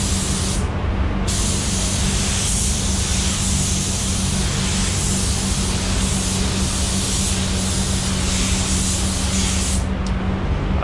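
A spray gun paints a Honda Pilot body panel, blending the coat, a loud continuous hiss running unbroken for about nine seconds before cutting off near the end.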